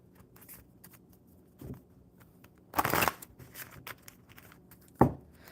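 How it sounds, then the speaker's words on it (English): Playing cards are shuffled at a table, with two or three brief riffling bursts separated by quieter rustling and handling. "That's not going to shuffle very well."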